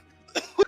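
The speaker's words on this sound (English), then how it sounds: "No, you hear that cough" Two quick coughs come close together, short and fairly loud, with nothing else around them.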